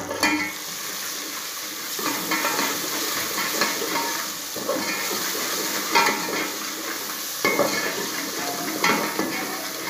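Spices with turmeric and garam masala for a village-style chicken potato biryani frying and being stirred in a pan: a steady loud sizzle and hiss, with spoon scrapes coming through now and then, close and without talk.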